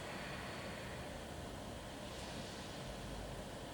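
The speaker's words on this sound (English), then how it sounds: "working on that Ujjayi breath, the sound breath" Ujjayi yoga breathing through a constricted throat gives a steady, ocean-like hiss. It is soft, continuous and even, with no speech over it.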